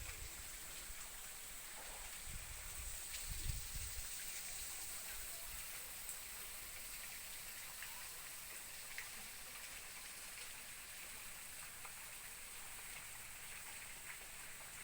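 Timurung waterfall in Takalar, South Sulawesi, gives a faint, steady rushing of water with a brief low rumble near the start and no voices.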